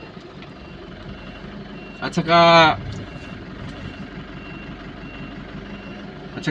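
A truck backing into a crowded parking area sounds a short burst of loud, rapid reversing beeps over engine rumble, briefly cutting through a man's speech before fading back to idling.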